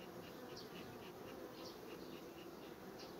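Honey bees drone steadily around an open hive as a beekeeper unites a large queenless colony; the dense buzzing continues throughout, close and unbroken.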